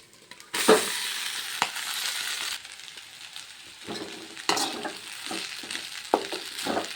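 Noodles tossed and stirred through chilli powder and coriander powder in a hot pan, a sizzling scrape with bursts of clatter and metallic clinks from the utensil, close and alone.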